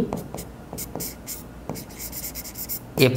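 Handwriting with a pen during an HSC accounting lesson, scratchy strokes and taps arriving in irregular bursts up close, and a voice briefly breaks in at the end.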